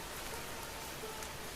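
Steady, faint rain falls in a forest, a soft continuous hiss of drops with no voices.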